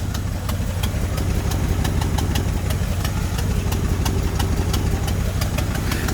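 A 1968 Chevy El Camino runs with a 350 V8 and four-barrel carb from a 1974 Camaro, a steady, loud close-up idle with an even low rumble and a regular lopey pulse throughout, no talking.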